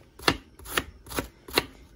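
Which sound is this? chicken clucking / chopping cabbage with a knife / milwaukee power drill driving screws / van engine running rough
chopping cabbage with a knife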